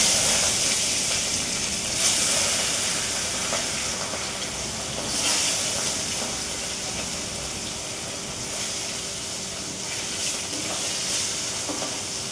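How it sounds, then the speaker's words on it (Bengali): Fish sizzles steadily in hot oil in a home kitchen, a loud, continuous hiss and crackle with small swells running the whole time and no talking. "মাছটা আগে দিয়ে দিই, তেল গরম হয়ে গেছে"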